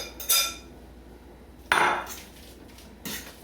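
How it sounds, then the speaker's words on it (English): Oven-roasted potatoes tipped into a pan of Cuban picadillo, with three separate clattering knocks of utensils against the pan spaced over a few seconds, fairly quiet between them. "remember the potatoes that I had in the oven? They're done, and now I'm going to add them here"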